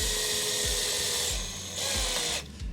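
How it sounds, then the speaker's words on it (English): A power drill whirs steadily, with rhythmic thumping and a grinding bite as a screw is driven into wood, close and fairly loud. "I'm going to start to drill"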